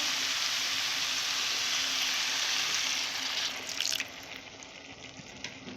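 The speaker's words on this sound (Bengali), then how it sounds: "অল্প পরিমাণে আমি জল দেবো" Water poured into cabbage curry in a cooking pan, a steady close hiss and splash that runs loud for about three seconds, then breaks into sputtering sizzle and trickles as it settles.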